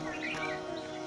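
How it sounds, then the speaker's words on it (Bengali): A bird calls softly in the distance over a brief moment, a thin tonal chirp set against a quiet background. "একটা পাখি কুকু করছে"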